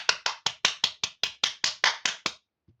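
Twelve sharp, evenly paced hand claps in a quick steady rhythm, close and fairly loud, given as a small round of applause for a child after solving a simple sum, with a faint soft knock at the end.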